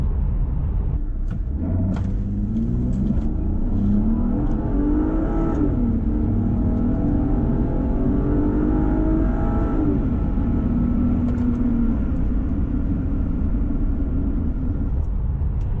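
A 2009 Volvo XC60 T6 SUV accelerates hard from 0 to 100 km/h, its engine note climbing steadily through the gears with a continuous loud rumble and rising pitch sweeps, heard from inside with no talk.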